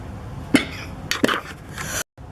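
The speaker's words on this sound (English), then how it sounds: "I had to pause and have a good cough." Two sharp coughs about a second apart, close to the microphone, followed by a brief rasp and a moment of silence.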